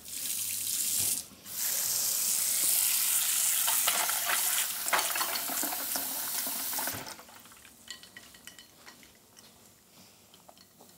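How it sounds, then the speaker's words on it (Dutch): Water runs steadily from a tap into a bowl of ice cubes in a home kitchen, a loud continuous splashing pour that breaks off briefly, then stops and leaves faint clinks and trickles. "Dus in die ijsklontjes gaat nog wat water."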